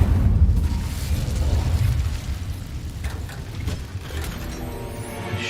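Incendio fire spell in Hogwarts Legacy bursting into a loud rumbling blast that rolls on, then fades into crackling game sounds.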